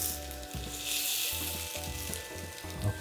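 Vegetables sizzle in a hot pan just after being flipped, a close, steady frying hiss with a few soft scrapes and shifting bumps from the turning.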